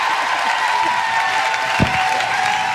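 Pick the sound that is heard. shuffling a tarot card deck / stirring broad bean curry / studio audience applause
studio audience applause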